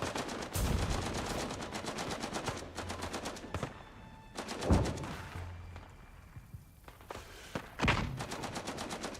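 Rapid machine-gun bursts and single gunshots ring out in the Gallipoli video game, with a few louder close shots and thuds among sustained fire.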